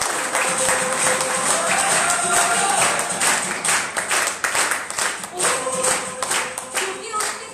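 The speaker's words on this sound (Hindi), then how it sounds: "तो एक बार जोरदार तालियां हो जाए" Audience applause at a Hindi-language business marketing plan presentation, steady dense clapping through the whole stretch with crowd noise and some tonal sounds mixed in.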